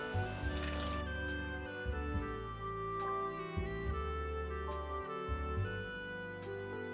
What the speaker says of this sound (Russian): поэтому добавим еще немножечко воды